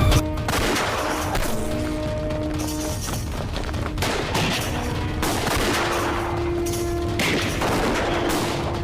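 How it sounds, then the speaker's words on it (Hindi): Staged British police gunfire in a drama about Chandra Shekhar Azad: sharp shots and bursts crack repeatedly over a tense music bed, loud and close, with no talk. "तभी उन्हें ब्रिटिश पुलिस चारों ओर से घेर लेती है और उन पर गोली चला देती है।"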